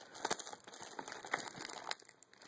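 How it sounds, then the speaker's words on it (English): Plastic shrink wrap crinkling in bursts as it is peeled off a box, close and fairly quiet, with irregular crackling rustles and no voices. "the shrink wrap doesn't want to come off"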